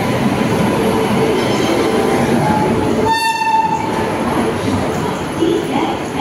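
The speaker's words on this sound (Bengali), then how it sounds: "ট্রেন ব্যান্ডেল স্টেশনের 3 নম্বর প্ল্যাটফর্মে ঢুকছে।" The 13011 Howrah–Malda Town Intercity Express pulls into platform 3 at Bandel station with a loud, continuous rumble of wheels and carriages, broken midway by a short, blaring horn blast.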